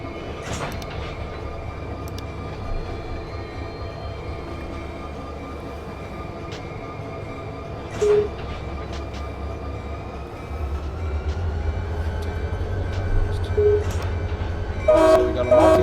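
A multi-level autorack train rolls by in the Run8 rail simulator, a steady low rumble of wheels and cars with occasional clanks and a brief horn-like tone, continuous and fairly loud.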